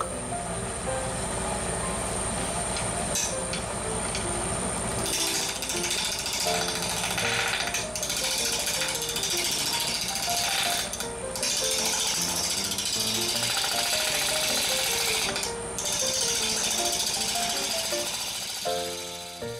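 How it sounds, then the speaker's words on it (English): Wood lathe with a gouge making push cuts across the long grain of a balanced chestnut oak natural-edge bowl, a steady, continuous cutting roar with overtones that runs for the whole stretch, close and loud with no talk. "The balancing exercise allowed us to rotate faster, facilitating the gouge cut, and you appreciate that in the more continuous sound of the cut."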